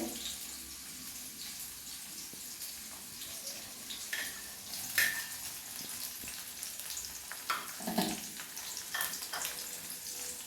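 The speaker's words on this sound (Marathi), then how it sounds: "लसूण जरासा रंग बदलल्यानंतर इथे मिरची घालणार" Green chilies sizzle in hot oil alongside garlic that has just started to brown, a steady broadband crackle with a few louder pops and splutters near the middle, close and with no talking.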